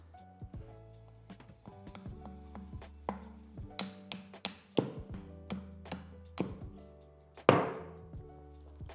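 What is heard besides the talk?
axe carving a cherry wood spoon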